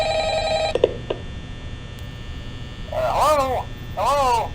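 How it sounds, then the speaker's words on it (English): A desk telephone rings in the horror game Five Nights at Freddy's with one shrill, electronic trill that cuts off abruptly. A low mains hum runs steadily underneath, and a recorded voice then begins talking. "Then heard the familiar ring of the phone on my desk."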